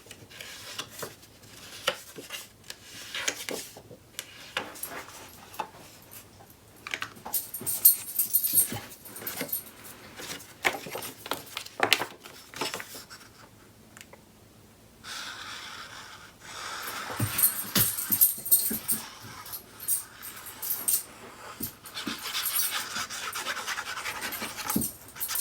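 A dog plays with a piece of paper, scattered rustling, rubbing and crinkling noises coming in irregular bursts close by, with quieter gaps and a few light taps, no voices.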